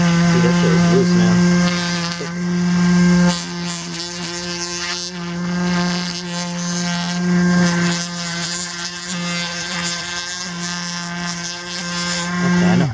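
A Dremel rotary tool grinds hard-to-reach spots on the brakes of a Mitsubishi Galant VR4 during prep for painting, giving a loud, steady high-pitched whine that shifts slightly in pitch as pressure changes, running continuously throughout.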